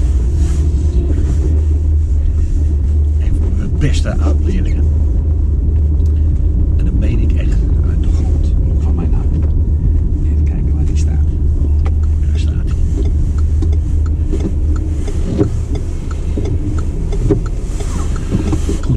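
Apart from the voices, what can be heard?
car driving through town near station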